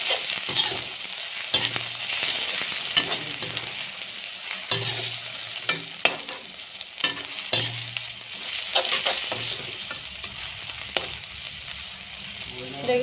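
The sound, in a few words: ginger garlic paste frying in pan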